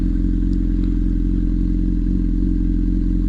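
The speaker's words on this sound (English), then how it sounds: "Did you guys know you could off-road a CBR 600 RR Super Sport?" A Honda CBR 600 RR supersport motorcycle ridden off-road: a steady, loud engine drone with low rumble throughout, a few faint clatters and knocks over the top.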